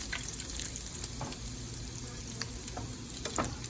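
Beef chuck sizzles steadily in its own rendered grease in a pan, a close, continuous frying hiss with small pops and occasional stirring scrapes.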